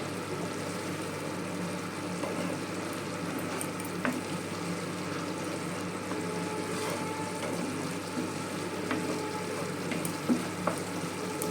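Okra stir-fries in oil over a medium-low flame, giving a steady, moderate sizzle close by with occasional light scrapes and taps of stirring, and no talking.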